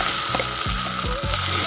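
Ground green pea paste hits hot oil already frying with ginger and green chili in a pan, giving a steady close sizzle with a few soft knocks of stirring.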